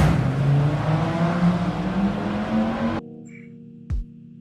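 A naturally aspirated V10 in a BMW M5 revs hard and loud for about three seconds with a rising engine tone, then cuts abruptly to a quieter idle with a brief sharp knock near the end.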